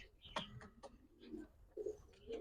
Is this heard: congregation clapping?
no